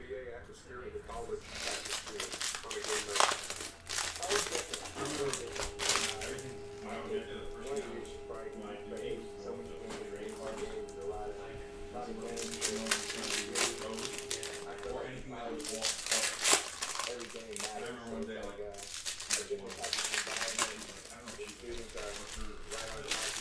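A cello-wrapped pack of 2019-20 Panini Donruss Optic basketball cards is torn and crinkled open close up, with long stretches of crackling plastic rustle and ripping running under steady talk and a faint background tone.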